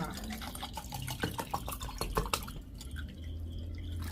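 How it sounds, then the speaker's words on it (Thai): Cold water poured into a pan while making a Thai Isan spicy lotus-stem salad with fresh shrimp, heard as close, uneven dripping and splashing liquid with clattering sounds, alone without talk. "น้ำเย็นๆ ค่ะใส่ลงไป"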